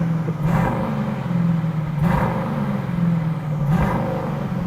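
A deep Aston Martin DBX 707 SUV engine idling loudly close by through its new exhaust, with three surging revs that swell and fall back in a rumbling, throaty exhaust note.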